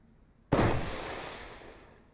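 A single sharp explosion bursts out in the turn-based game Mutant Year Zero, then trails off in a fading rumble over about a second and a half, with no voices.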